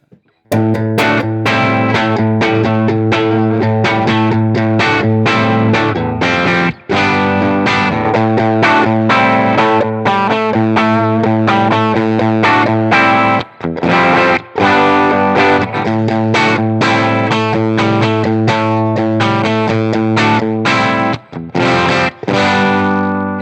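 An electric guitar played through Boss overdrive pedals (BD-2, SD-1, OD-3) plays a continuous riff with crunchy overdrive, loud and close, sustained chords and notes with brief pauses.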